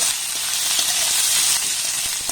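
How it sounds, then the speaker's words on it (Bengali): Grated garlic and onion fry in a pan while being stirred, a loud, steady sizzle and hiss that runs unbroken throughout, with faint scrapes of stirring and no voices. "এবার রসুন আর পেঁয়াজটাকে একটু ভালোভাবে নাড়াচাড়া করে ভেজে নেব"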